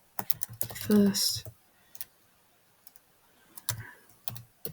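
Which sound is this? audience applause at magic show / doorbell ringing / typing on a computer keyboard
typing on a computer keyboard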